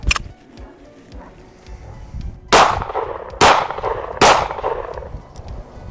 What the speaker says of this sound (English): let's shoot it first and see how it does with the ghost ring sights